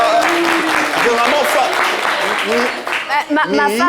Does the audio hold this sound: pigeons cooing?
no